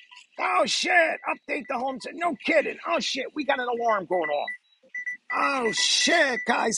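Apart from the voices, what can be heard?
alarm going off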